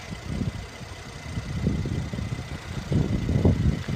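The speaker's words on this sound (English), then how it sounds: "Very impressive engine." Audi A7 Prestige S Line or Mercedes-Benz CLS400 luxury car engine idling with a low, steady rumble and a faint high whine, moderately close.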